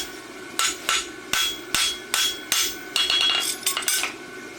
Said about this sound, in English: then we just take like a little set hammer here and we'll get in right behind our clip